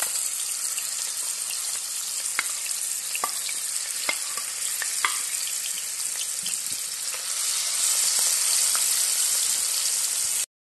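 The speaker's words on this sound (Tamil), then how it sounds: "இந்த பிசறி வச்ச இந்த இறாவை நம்ம வறுத்து எடுத்துக்கணும்." Marinated prawns fry in hot oil in a pan with a steady, close sizzle, broken by scattered sharp crackles and spatters; the frying grows slightly louder near the end, with no voices.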